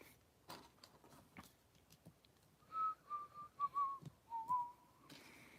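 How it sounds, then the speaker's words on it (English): A person whistles a short tune of several sliding notes in the middle of the clip, faint ticks and clicks around it in a quiet room. "Oh, they heard the whistle now."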